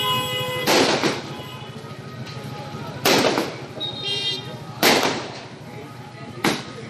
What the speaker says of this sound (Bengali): হাসপাতাল চত্বর, আর সেখানে দেদার আতশবাজি ফাটছে।